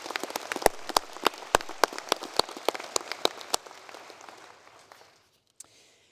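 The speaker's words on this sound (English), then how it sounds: "Ladies and gentlemen, another round of applause for Matthew," A graduation ceremony audience at Massey University's Manawatū campus claps for Matthew, loud distinct handclaps over a softer crowd patter that dies away after about four seconds, followed by near silence and one last clap.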